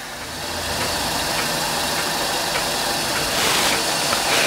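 A scratch-built aeolipile model steam engine running freely: a steady, close, continuous whirring hiss with a slight swell near the end and no voices.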